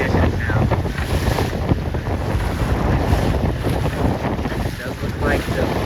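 Strong wind roaring across the microphone aboard a C420 sailboat racing in a regatta, a constant loud buffeting rush with water and hull noise mixed beneath it.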